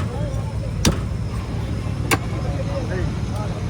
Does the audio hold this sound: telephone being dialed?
no